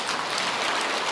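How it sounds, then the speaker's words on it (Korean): Dense, steady clapping from a crowd at a Buddhist Dharma assembly at Tongdosa temple, a continuous wash of applause with no voices. "그분들을 위해서 환영 박수 한번 보내주세요."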